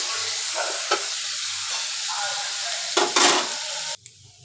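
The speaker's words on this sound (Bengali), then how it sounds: "আলুগুলো একটু ভেজে নিই লাল লাল করে।" Potato pieces fry in hot oil in a pan, a steady sizzle broken by a few scraping stirs and one sharp metallic clank from the spatula near the end.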